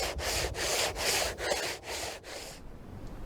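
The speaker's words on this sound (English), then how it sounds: "I like to keep a bit of the PVA on because it foams up and acts as a bit of a lubricant for the wet sanding." Wet sanding of filler on a boat hull during a restoration, lubricated with foaming PVA: six long, even rasping strokes in steady rhythm, close and fairly loud, then stopping, with no talk.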